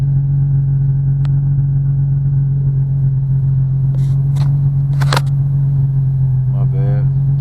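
An Infiniti G35 sedan (2003) with a Power Tech exhaust fitted with a baffle holds a steady, deep drone close by, with a few faint clicks and rustles but no clear rise in revs.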